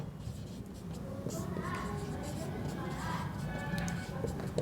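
A pen scratches steadily across paper while working out a school math problem on tile counts, soft continuous strokes under a voice talking throughout.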